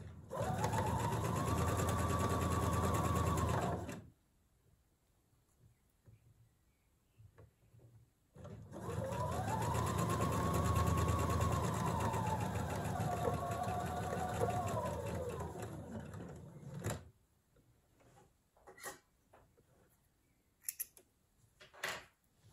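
A sewing machine stitches the armhole seam of a Tanya blouse, running loud and steady in two long bursts separated by a pause. A few short clicks and handling noises follow.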